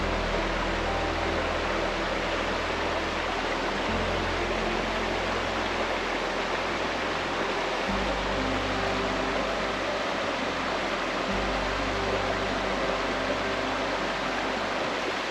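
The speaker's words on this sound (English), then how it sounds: "have a look at my little river" A small river in the Cathedral Ranges, Australia, flows in a steady, broad rush of water heard up close, alone and unbroken.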